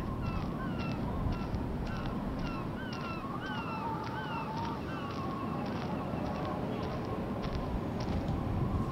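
Crows caw repeatedly in the game Life is Strange, a series of short harsh calls at a moderate distance over a steady outdoor ambience, with quiet talk in places.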